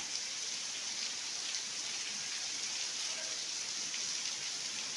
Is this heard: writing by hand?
no